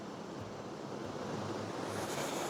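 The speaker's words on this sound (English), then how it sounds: "It's not very often you get two waterfalls in one location." Two waterfalls, one large and one small, pour together on Vancouver Island in winter, making a steady, even roar of rushing water with faint wind noise, and no voices.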